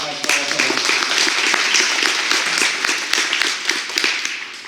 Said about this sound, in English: So please let's give her a big round of applause for all of her work.